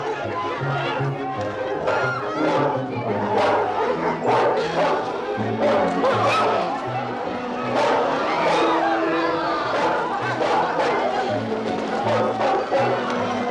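Dog barking in a crowded outdoor scene, repeated yips and barks mixed with steady crowd chatter and overlapping voices throughout.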